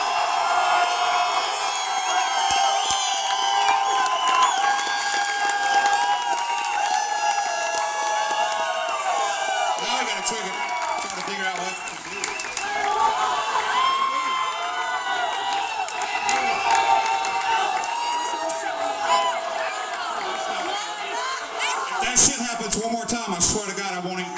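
A concert crowd at a band's show in Des Moines, Iowa cheers, whoops and claps steadily, a dense roar of many voices filling the space throughout, with a few sharper shouts and claps near the end.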